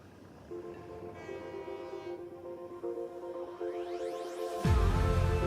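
Trains rumbling in a Coffee Stain factory-building game, with steady tonal hums and rising whistle-like sweeps building over a continuous mechanical drone, then a loud burst near the end.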